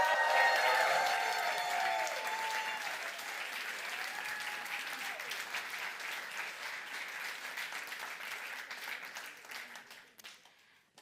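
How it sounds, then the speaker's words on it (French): An audience applauds at a Christmas-season performance, a sustained wash of clapping that starts strongest with a few whoops and cheers over it, then gradually thins and fades toward the end. "Veuillez applaudir bien fort"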